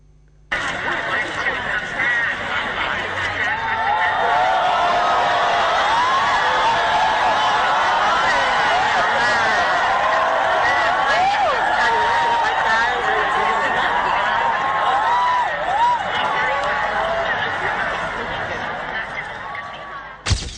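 Sustained crowd booing and jeering at an outdoor royal birthday ceremony as the Thai prime minister appears on a projector screen, a dense continuous roar of many voices lasting about twenty seconds with scattered shouts rising through it before it fades.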